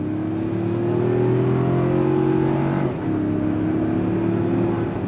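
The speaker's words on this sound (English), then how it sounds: "We're gonna go on throttle again." A 2025 Toyota 4Runner TRD Sport Premium engine pulls hard under throttle, a steady, droning tone that climbs through the revs, dips at a brief gear change, then keeps building, heard from inside the cabin.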